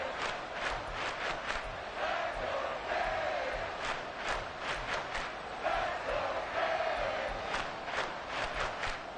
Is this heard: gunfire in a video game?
no